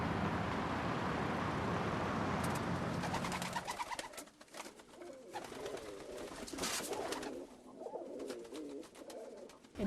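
Pigeons coo in soft, repeated throaty calls near the listener, while faint road traffic hums in the background.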